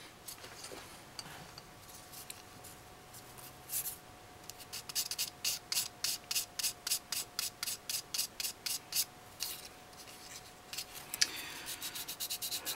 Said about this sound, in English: this sanding paper happens to be Tamiya's finishing abrasive